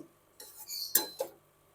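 Boondi being turned with a spoon or spatula in a lidded pan while making sweet syrupy boondiya from gram flour, giving a few short metallic scrapes and clinks, including one sharper knock, against a quiet background.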